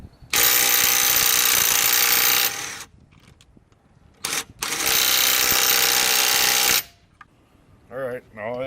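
A Bauer 20 volt cordless impact driver hammers on a half-inch stud in two loud, sustained rattling bursts separated by a quiet pause, ending with brief softer clicks.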